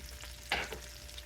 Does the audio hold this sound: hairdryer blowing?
no